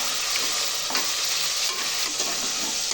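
Mint and coriander leaves fry with ginger and garlic in a pan, giving a steady, close, loud sizzle with soft stirring scrapes throughout and no talking.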